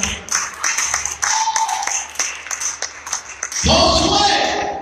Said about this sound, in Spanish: Denle un aplauso al Padre de Dios